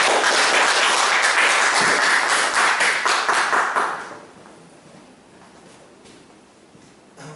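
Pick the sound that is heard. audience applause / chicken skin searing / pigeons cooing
audience applause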